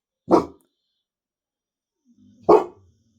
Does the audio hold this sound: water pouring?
no